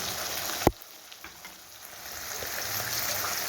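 Green chilli and ground cumin hit a hot pan with a sharp crackle, then settle into a soft, steady sizzle that continues close by without talk.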